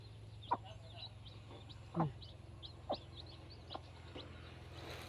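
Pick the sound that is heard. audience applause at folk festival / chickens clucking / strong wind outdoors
chickens clucking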